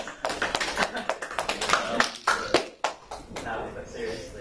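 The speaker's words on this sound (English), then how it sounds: "Round of applause." Workshop audience clapping on a Saturday morning before a UI/UX design session, a round of scattered, uneven hand claps with brief pauses, fairly close, mixed with a few voices.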